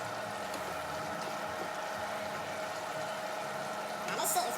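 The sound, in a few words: food sizzling in a pan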